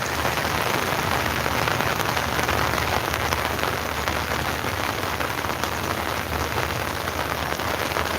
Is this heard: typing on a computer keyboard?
no